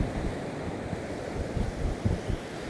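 Rough sea off the Northumberland coast near Alnmouth and Amble harbour, a constant roar of surf and wind buffeting the microphone, with low rumbling surges of waves close by.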